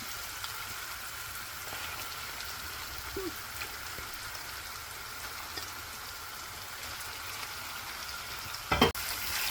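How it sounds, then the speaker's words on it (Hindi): Chicken frying with onions in butter over high flame, a low, steady sizzle close by with a brief sharp clatter near the end, no speech. "अब हम चिकन को भूनेंगे 2-3 मिनट के लिए, कलर चेंज होने तक।"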